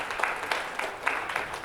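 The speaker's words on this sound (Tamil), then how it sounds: "உங்களுக்கெல்லாம் நல்லா கைதட்டு கொடுங்க." A seated audience at a talk breaks into applause, a brief, dense wash of many hands clapping at once, with a few sharper individual claps standing out in a loose rhythm.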